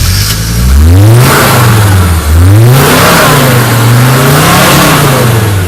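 A loud off-road engine rumbles to life and revs repeatedly, rising and falling in pitch, close and deep throughout.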